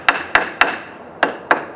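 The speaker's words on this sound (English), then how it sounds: "Here's a small hammer for maybe tacks." A small tack hammer strikes a brad in five sharp, close taps: three evenly spaced, a pause, then two more, each ringing briefly and alone.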